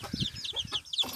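A hen clucks in short, repeated bursts, close by, with soft chicken chatter running through the brief moment.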